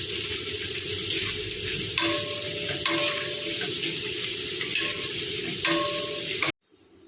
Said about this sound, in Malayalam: എന്നിട്ട് നന്നായിട്ട് ഉള്ളി ഒന്ന് വഴറ്റിയെടുക്കാം.